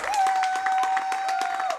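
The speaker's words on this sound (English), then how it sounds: "Stop clapping." Audience applause at a speedrunning marathon event, a steady patter of many hands clapping through the whole stretch with a sustained electronic tone from game audio running beneath.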